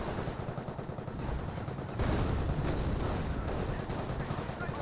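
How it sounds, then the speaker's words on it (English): Rapid machine-gun bursts from a German half-track in Company of Heroes 1, dense and continuous over a rumbling battle bed with no pauses, growing louder partway through. "Half track firing away"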